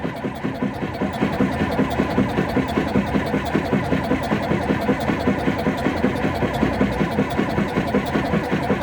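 Ursus tractor diesel engine starting in freezing cold, with a worn injection pump, spitting soot. It runs with a loud, close, steady rhythmic chugging throughout, with no talk.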